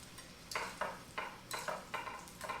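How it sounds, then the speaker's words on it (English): Chicken sizzling in a hot frying pan, with bursts of crackling hiss rising and fading every half second or so, fairly quiet. "We have sizzle."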